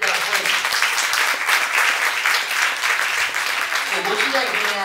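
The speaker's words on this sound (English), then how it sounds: "If you got that, clap your hands and give God praise." A church congregation breaks into loud, sustained applause, a thick wash of clapping hands, with voices calling out beneath it and near the end.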